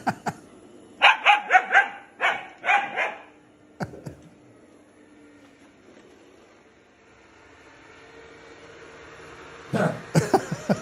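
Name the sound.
dog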